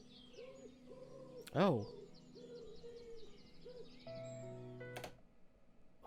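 Bird calls from a music album: a quick, bright chirping burst rises over soft, steady music, with a brief spoken exclamation heard in the clip.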